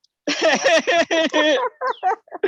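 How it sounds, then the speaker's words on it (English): Loud nearby clucking and squawking calls in quick bursts, harsh and raspy, one after another without pause. "I could hear the birds in the background cheering you on"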